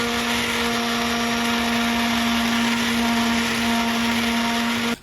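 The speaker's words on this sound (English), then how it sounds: "Then it was sanded down to leave a nice smooth finish for getting in and out of the ice bath." A power sander runs steadily on the wooden frame of a DIY ice bath, giving a loud, continuous high whine with a constant hum that cuts off abruptly at the end.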